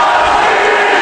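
Washington Huskies fans chanting at a hockey game against Oregon, a loud, dense roar of massed voices filling the arena for one brief second.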